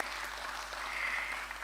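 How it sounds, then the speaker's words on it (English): Audience applause at a stock exchange listing ceremony for an SME company, a steady dense wash of clapping from the assembled crowd. "they should get a thunderous round of applause for the hard work they're doing."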